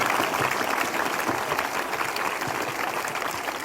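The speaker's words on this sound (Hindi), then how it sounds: "धन्यवाद तालियों के साथ सच्चे मन से" Applause from a church congregation during a special prayer service fills the room, a dense steady wash of many hands clapping at close range that holds evenly throughout.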